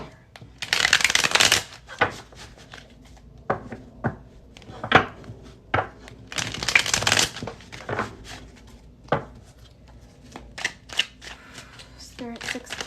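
Tarot cards shuffled by hand in repeated bursts of riffling and slapping, close and fairly loud, separated by quieter stretches of shorter card clicks and taps.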